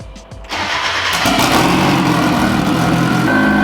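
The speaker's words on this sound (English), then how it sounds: "Put on your oil cap and start your car." A 300 BHP Mazda MX5 drift car cranks and fires up, then settles into a loud, rough, steady idle close by.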